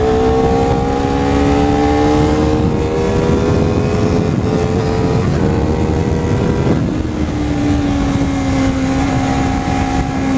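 A new Honda CBR250RR motorcycle engine drones steadily during a test ride, its pitch rising through a gear, dipping with a shift near the middle, then climbing again, loud and close under wind noise.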